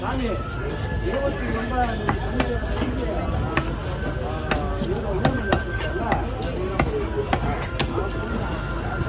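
Fish chopped with a heavy knife on a board at Kasimedu fish market, a rapid string of sharp close thwacks in irregular rhythm under constant chatter and market bustle.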